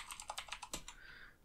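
Quick, light keystrokes on a computer keyboard as a password is entered during a Multicraft server install on Ubuntu, about a dozen close, crisp clicks in an uneven burst that trails into a faint background hum.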